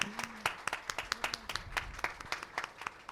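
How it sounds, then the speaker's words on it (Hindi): An audience claps at a film trailer and music launch, a scattered run of sharp hand claps that keeps going under a faint voice. "मैं चाहता हूं एक बार ये तालियां रुकनी नहीं चाहिए"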